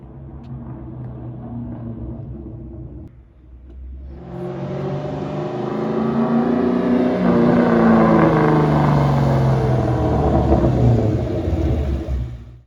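A 2003 Ford Mustang Mach 1 engine rumbles up from quiet, growing louder and deeper as it drives in close, revving steadily with a throaty low drone.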